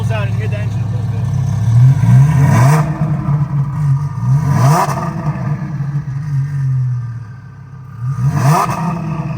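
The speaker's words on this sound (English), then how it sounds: "he's gonna give it a little gas, so we're just gonna get a little rev here just to get the spools out and hear the engine" A twin-turbo Lamborghini Huracan STO engine, tuned on E85, revs up loudly in three sharp bursts that each rise steeply in pitch and fall back to a steady idle. Voices talk nearby throughout.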